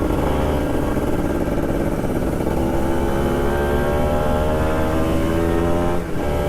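A Kawasaki Ninja motorcycle ridden at night on a trip to Malino gives a loud, continuous engine drone with strong steady harmonics, close and unbroken throughout, with no voices.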